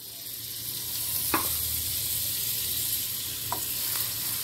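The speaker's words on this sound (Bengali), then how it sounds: "আরও দুটো ব্রেড ওই একইভাবে বাটারে ফ্রাই করে নিচ্ছি।" Bread frying in butter in a pan gives a steady, close sizzle with a soft hiss throughout and a couple of faint clicks from the pan.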